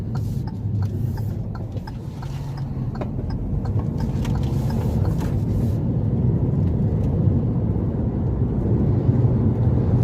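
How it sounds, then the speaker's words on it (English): Kia Stonic GT Line's 1-litre three-cylinder petrol engine pulling under acceleration, heard from inside as a steady low drone mixed with road and wind noise, with light clicks early on and no talk. "But that 3-cylinder 1 litre petrol goes, yeah, it just pulls really well"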